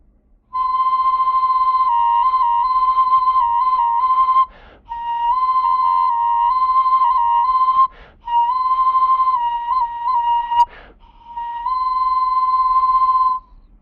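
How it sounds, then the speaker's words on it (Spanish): An ancestral Pumapungo ceramic multi-whistle wind instrument sounds in sustained, clear whistling tones, close and loud, blown in several long breaths with short pauses and slight pitch changes between them. "cuando soplamos por este canal de insuflación tenemos unos efectos no solamente de silbatos monofónicos cada uno"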